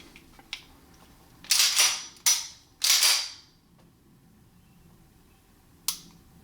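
A Dan Wesson Heritage 1911 pistol with a rusty-finish hammer is dry-fired and its trigger reset, producing a few sharp, crisp metallic clicks at uneven intervals, close and distinct against near silence.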